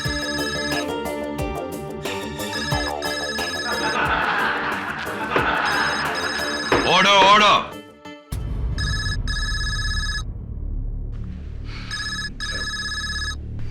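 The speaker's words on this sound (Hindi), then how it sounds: "किस बदतमीज का ये फोन है? बंद करो उसको।" A mobile phone ringtone rings loudly in a courtroom, a repeating electronic melody under background music, cutting off, then returning in bursts; a voice speaks over it.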